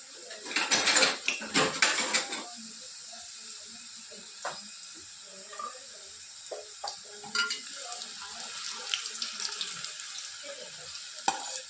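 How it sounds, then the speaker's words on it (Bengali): Thin-rolled nimki pastry strips slide into hot oil and sizzle softly, with a burst of louder frying and clatter early on, then quieter bubbling broken by scattered stirring knocks and utensil scrapes. "এবার তেলটাও গরম হয়ে গেছে, আমি আস্তে করে এগুলো দিয়ে দেবো।"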